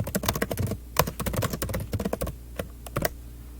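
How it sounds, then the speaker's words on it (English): Fingers type a message on a computer keyboard in a fast, irregular run of close, crisp key clicks with brief pauses, and no one speaks. "After you are done typing in the message that you want to send"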